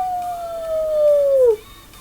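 A single long, falling howl from a human voice imitating a wolf or dog, fairly loud and close, sliding down steadily before cutting off.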